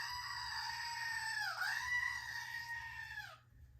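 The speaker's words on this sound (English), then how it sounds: "Screaming goat coming up." A screaming goat sound effect: a single long, loud, strained bleat that wavers and dips midway, then trails off, heard alone in a knitting vlog with no talking over it.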